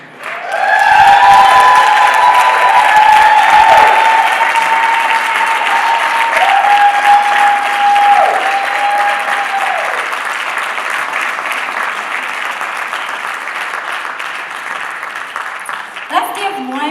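A concert audience in Chicago applauds for several seconds, with dense sustained clapping that slowly fades, while a voice calls out over the start of it.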